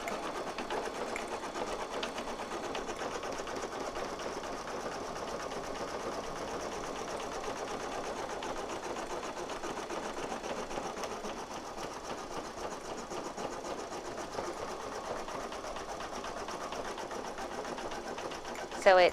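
An embroidery machine satin stitches onto foam for a straw beach bag, humming at an even rapid pace throughout at a moderate level, with a voice faintly over the motor.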